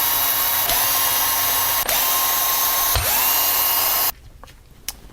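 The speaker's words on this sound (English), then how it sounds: "I have mounted up a 2mm hex driver in my Bosch pocket drill." A Bosch pocket drill fitted with a 2mm hex driver whines steadily while backing screws out of an Arrma Kraton EXB RC truck, a continuous high motor drone with brief dips before stopping abruptly.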